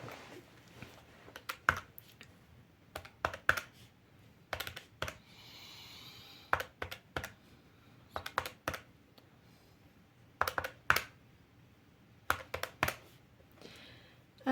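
Fingers tap calculator keys in short bursts of quick, close clicks separated by pauses, with no voice over the tapping.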